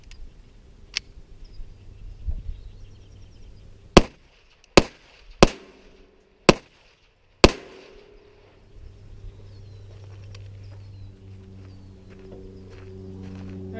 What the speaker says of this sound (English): Here's 5 rounds of the Remington loads.